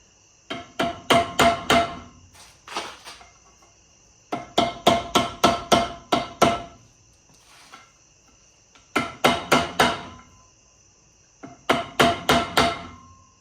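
Hammer giving little taps to seat a U-joint retaining clip on a custom Skyline driveshaft, in four distinct bursts of rapid, sharp metallic knocks with short pauses between, close and clear with no talking.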